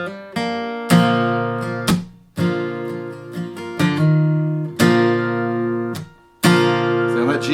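Country guitar lick from the intro of a song, plucked notes with hammer-ons ringing out in short phrases, strong and close, each attack sharp and then sustaining, played alone without speech.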